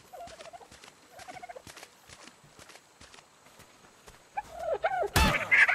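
A bird calls in the video game Ark: Survival Evolved, with two short warbling calls early on, soft footstep-like taps between them, and a louder burst of chirps and noise near the end.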